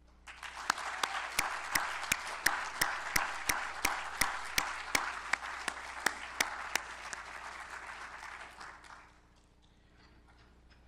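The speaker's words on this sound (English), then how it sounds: "please join me in applauding these candidates" Audience applause at a doctoral candidacy ceremony, a steady wash of many hands with a few sharp, regular claps standing out above it, running about nine seconds before fading out to quiet room tone.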